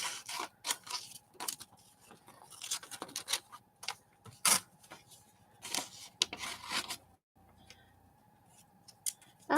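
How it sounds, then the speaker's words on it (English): Scissors snip through glossy magazine pages to cut out pictures, a rapid run of close, crisp cuts and paper rustles with short pauses between bursts. "what I'm going to do is cut them apart so I don't accidentally ruin anything"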